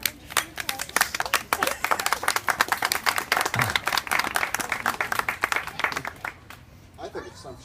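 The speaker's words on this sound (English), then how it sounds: "Can we clap?" Wedding guests clap at a ceremony after the vows, a lively burst of close hand claps that swells, then thins out and fades near the end as a voice begins.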